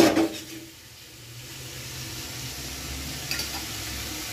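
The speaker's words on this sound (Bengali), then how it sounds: "জাস্ট মশলার গন্ধটা চলে যাওয়া পর্যন্ত কষাবো।" A thick masala paste sautés in a pan with a low, continuous sizzle, opening with a brief louder stir and then settling into a soft, even hiss.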